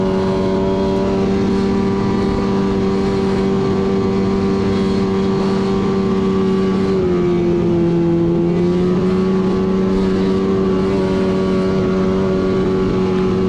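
A snowmobile engine held at open throttle to burn off carbon buildup, droning loud and steady at close range with a sustained tonal whine that dips briefly in pitch partway through, then recovers.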